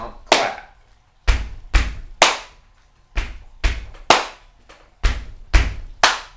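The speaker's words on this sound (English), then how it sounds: "it's just you stomp, stomp, clap. Stomp, stomp, clap." Body percussion in a stomp, stomp, clap pattern, as in a school music lesson: sharp, close, repeated beats with heavy stomps and crisp claps, steady and rhythmic with no speech.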